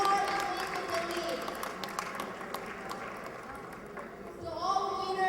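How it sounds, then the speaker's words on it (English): A sustained wash of clapping from a crowd honoring award finalists at the Asia CEO Awards 2014 ceremony, steady and fairly loud throughout, with a murmur of voices mixed in. "Big round of applause for them, please."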